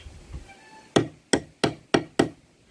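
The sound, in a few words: hammer tapping nut into drilled hole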